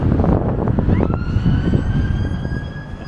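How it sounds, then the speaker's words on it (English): An ambulance siren wails with a rising tone, fairly close, over a rumbling wash of traffic noise in Blackpool during Storm Gerrit. "I can hear sirens, it's kicking off in Blackpool."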